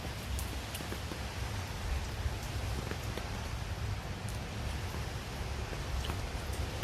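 Steady rain falls outdoors as an even, continuous hiss with faint scattered drops and no voices.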